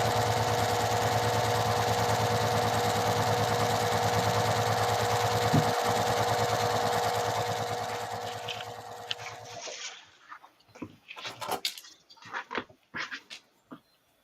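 A sewing machine chain-pieces fabric in a steady, continuous mechanical whir for about nine seconds, then stops, leaving a few scattered clicks and handling taps.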